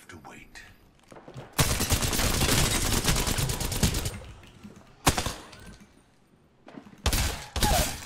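Gunfire in the online shooter Apex Legends: a long loud burst of rapid automatic fire, then a short sharp burst and two more bursts near the end, with quieter gaps between and scattered background sounds.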